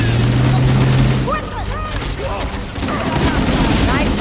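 Gunfire in the Halo CE video game: rapid bursts of weapon fire and sharp impacts mixed with sci-fi whooshing effects, loud and busy, with in-game voices in the background.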